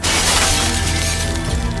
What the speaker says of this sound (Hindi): उसने शीशे पर मुक्का मारा।